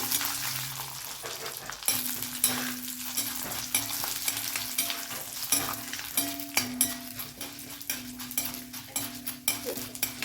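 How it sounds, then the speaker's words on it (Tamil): Chana dal and urad dal fry in oil for a mint-coriander chutney, producing a continuous bubbling sizzle with stirring scrapes and occasional utensil knocks. "நம்ம ஆயிலேயே கடலைப்பருப்பு நல்லா இந்த மாதிரி பொரியணுங்க"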